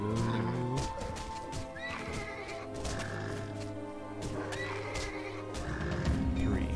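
A horse in the video game Titan Quest: Ragnarök whinnies loudly twice amid a busy layered soundscape of background music and ambient noise, with hoof clip-clops mixed in.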